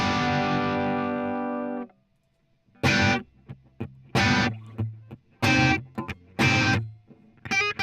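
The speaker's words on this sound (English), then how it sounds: "you'll notice I have distortion on this guitar already without having set up an amp sim or anything in there" Electric guitar played through a distortion effect: a long sustained chord that cuts off, then several short, punchy distorted strums and stabs with gaps between them, loud and close with no voice.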